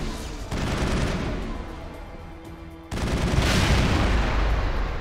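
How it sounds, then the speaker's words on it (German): Gunfire in Mass Effect while enemies are shot, dense rapid bursts of weapon fire in two loud heavy stretches with a brief lull between them. "Warte, ich kann das kaputt schießen."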